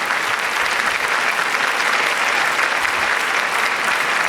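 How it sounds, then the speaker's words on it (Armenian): A stand-up comedy audience applauds warmly, dense sustained clapping that stays loud and even throughout with no voices on top. "եկեք ևս մեկ անգամ ջերմ ծափարենք այս հրաշք մարդկանց"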